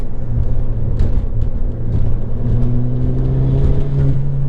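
A 2016 Ford Fiesta ST accelerates hard with its turbo and blow-off valve working. The engine drone is loud and steady from inside the cabin, with rising tones as it pulls through the gears.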